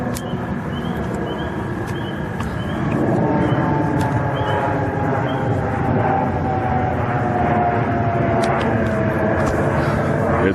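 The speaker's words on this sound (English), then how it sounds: "it absolutely looked and sounded very much like a conventional jet" Conventional jet aircraft passing directly overhead, a steady broadband roar that grows louder partway through and holds as a dense, continuous rumble with faint clicks on top.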